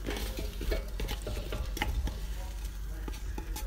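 Chopped vegetables including zucchini tumble into a cooking pot for a quick couscous, with scraping, stirring and clattering against the pot in a close, busy series of small knocks.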